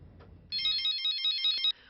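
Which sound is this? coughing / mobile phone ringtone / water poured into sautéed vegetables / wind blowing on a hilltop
mobile phone ringtone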